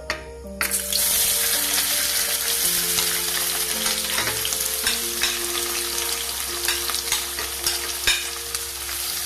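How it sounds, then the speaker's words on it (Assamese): Chopped onions frying in hot oil with a dried red chilli for an Assamese home-style chicken curry, heard as a continuous close sizzle. The spatula stirs and clinks now and then, with no talk. "এতিয়া পিঁয়াজখিনি কিছু সময় মই ফ্ৰাই কৰি ল'ম আৰু পিঁয়াজৰ কেঁচা ভাৱটো যোৱালৈকে মই ফ্ৰাই কৰি থাকিম"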